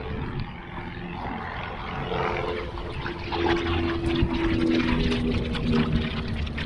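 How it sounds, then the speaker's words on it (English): An airplane passes overhead at an autocross event held in a parking lot, a broad droning roar with a steady low tone that grows louder over several seconds, heard over outdoor background noise with no talking. "We got a plane."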